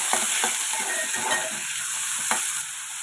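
Chopped onions and green chillies frying in oil for a dried fish and brinjal curry, a loud close sizzle with spatula scrapes and taps of stirring every so often, no talking.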